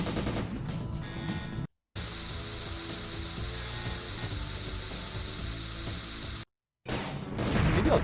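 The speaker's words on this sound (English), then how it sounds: "Definitely got the 90s electronic kind of sound of music" Retro 90s-style electronic game music with buzzy synth tones, playing steadily with two brief cuts to silence.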